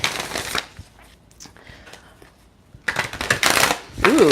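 Tarot cards being shuffled during a live reading, crisp papery riffling bursts at the start and end with a quieter gap between, fairly close.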